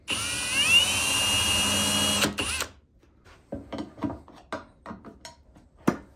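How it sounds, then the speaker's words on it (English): A power drill with a self-centering bit whirs steadily for about two seconds and cuts off, followed by a series of light clicks and taps from handling brass hinge screws and hardware. "I'll use a self-centering drill bit"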